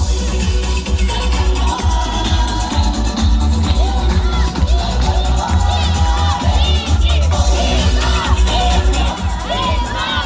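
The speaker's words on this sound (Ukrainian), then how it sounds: "А наши аплодисменты не смолкают!" Loud, dense crowd at an outdoor carnival fair in Malmyzh, cheering and applauding continuously throughout, with shouts and children's voices rising over the din.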